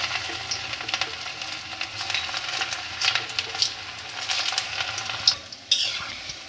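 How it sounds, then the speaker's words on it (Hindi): Sesbania flower pakoras dropped one by one into hot oil and deep-frying, a dense close crackling sizzle with irregular bubbling bursts and a couple of louder spits near the end. "तो हम लोग इसमें एक एक करके पकौड़े डालते हैं।"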